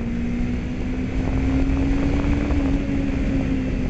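A car engine on a small, narrow racetrack drones steadily and loudly throughout, a continuous low hum with a slight rise in pitch, mixed with wind rumble against the microphone.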